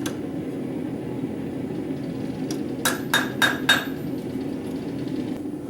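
Four quick metallic hammer strikes ring out on an anvil as rebar is forged, evenly spaced and bright, over a steady low hum of shop background noise.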